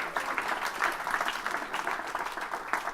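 Audience clapping after a card trick at a magic show, a steady patter of hands lasting a few seconds, fairly soft and somewhat distant, with no one talking over it.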